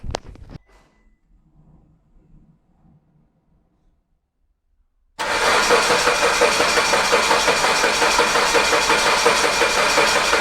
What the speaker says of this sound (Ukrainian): Я пішов крутити двигуном, а ви мені потім скажете, яка була компресія.